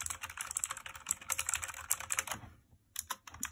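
Fast, steady keystrokes on a VictSing TKL mechanical gaming keyboard with a metal rim, close and crisp. The typing pauses briefly near the end, then a few more key presses follow.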